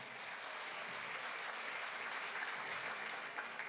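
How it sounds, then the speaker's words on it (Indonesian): Sustained applause from an audience at the close of a church congress (GBAI/GBI), a dense, steady clatter of many hands filling the room without a break. "Tepuk tangan untuk kita semua"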